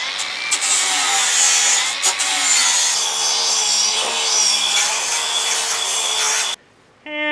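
A battery-powered tool deburrs razor-sharp sheet metal edges during a Porsche 911 chassis swap onto a Miata, giving a loud, steady, close grinding rasp that runs nearly continuously before cutting out abruptly near the end.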